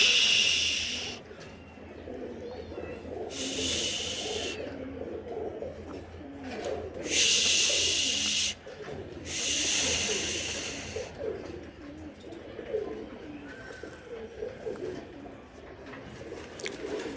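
Giribaz pigeons coo in a loft, with low, repeated coos running throughout. Several loud bursts of rustling hiss break in on top of them.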